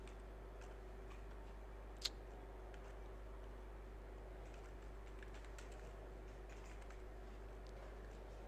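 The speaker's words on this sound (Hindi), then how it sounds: "अब मैंने इस तरह टाइपिंग कर दी है सारी" Faint, sparse keystrokes on a computer keyboard in a quiet room, with one sharper click standing out among soft, irregular taps.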